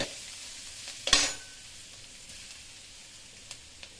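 Crushed spice mix is stirred into frying onions in a pan for a spinach thoran. A sharp scrape of the spoon sounds against a soft, continuous sizzle, followed by a few faint clicks.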